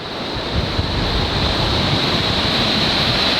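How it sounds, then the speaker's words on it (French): Large ocean waves crashing at a Costa Rica surf competition final, a loud continuous roar of churning surf with wind noise, dense and unbroken throughout. "regardez ces vagues incroyables, au moins 15 mètres"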